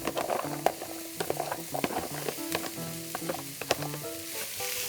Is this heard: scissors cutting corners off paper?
no